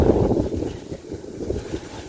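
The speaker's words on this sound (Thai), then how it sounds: "มื้อนี้กับบรรยากาศลมหนาว" Cold dry wind blows steadily outdoors, buffeting the microphone with a continuous low rumble that rises and falls, with no voices.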